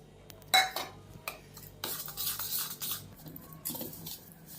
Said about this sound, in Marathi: मी तर हे 3 चमचे बटर घेतलेले आहेत, त्यामध्ये ही पिठी साखर घालून मी ते फेटून घेत आहे